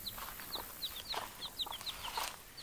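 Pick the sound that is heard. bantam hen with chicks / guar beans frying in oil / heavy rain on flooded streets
bantam hen with chicks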